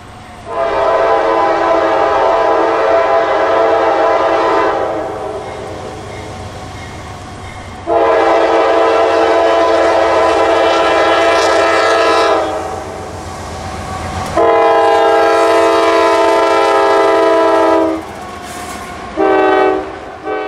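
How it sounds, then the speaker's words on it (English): Norfolk Southern freight train NS-224, hauling intermodal cars and auto racks, passes in northwest Georgia and sounds loud, close horn blasts in several long bursts over the low rumble of the moving cars. "It was NS-224, a few intermodal stragglers on the top, followed by auto racks"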